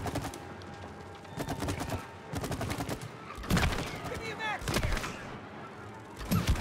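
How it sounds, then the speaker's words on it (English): Bursts of video-game gunfire in It Takes Two, with rapid volleys of shots repeating in clusters over about six seconds, loud and close, mixed with game effects and people talking in between. "I gotta shoot them and then you finish them off"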